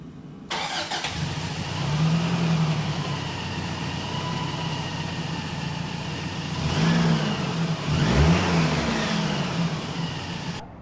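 A cheap old Toyota truck engine, running after a fuel leak repair, cranks and catches, then idles and revs up in a few swelling pushes, fairly close with no speech.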